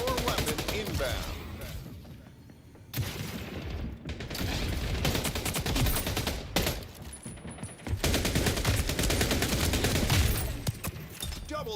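Heavy automatic gunfire in the arena shooter Splitgate 2 rattles in long, dense bursts separated by brief lulls, with voices talking underneath the shooting.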